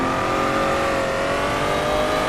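A Honda NSX-R engine drones loudly and steadily in a driving game mod, a continuous high-revving tone with no talking.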